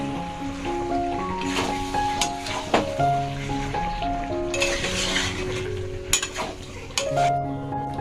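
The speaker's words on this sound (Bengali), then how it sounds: "এবার এসে আবার নাড়িয়ে নাড়িয়ে দেব" A spoon scraping and stirring a mixed winter vegetable curry in a sizzling pan, steady frying hiss with rhythmic scrapes and clinks against the metal, close and moderately loud, while music plays in the background.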